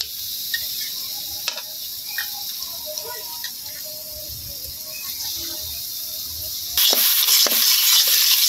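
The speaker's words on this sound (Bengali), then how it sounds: "এখন মশলাটা কষাই নেওয়া হইতেছে" Spice paste with onions fries in a pan with a steady hiss and a few soft clinks of stirring, the sizzle turning louder and harsher for the last couple of seconds.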